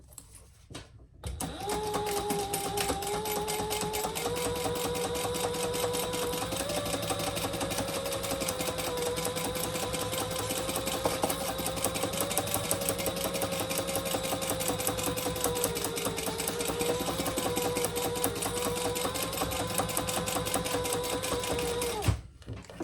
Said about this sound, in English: we're just going to baste those together